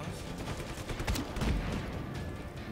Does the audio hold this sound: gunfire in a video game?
yes